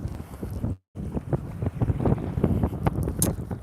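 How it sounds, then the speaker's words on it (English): Strong wind buffets the microphone in rough, gusty rumbles, with a brief cut to silence near the start before the blustering resumes. "Ooh, it's a bit windy, isn't it?"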